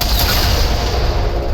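A particle cannon firing in the Halo video game, a loud, dense blast of sustained energy-weapon fire filling the whole short moment without a break.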